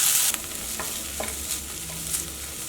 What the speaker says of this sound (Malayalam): ഇങ്ങനെ ഇളക്കുമ്പോൾ ആ സവോളയുടെ ഒക്കെ കൂടെ കിടന്നിട്ട് ക്യാരറ്റും ഒന്ന് ചെറിയ ഇതായിട്ടൊന്ന് മുരിഞ്ഞ പോലെ വരും